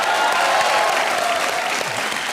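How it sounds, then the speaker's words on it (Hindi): Steady, dense audience applause on a comedy television show, loud and close, sustained throughout with a crowd murmur beneath and no speech over it. "हमारे KRK साहब के लिए जोरदार तालियां हो जाएं।"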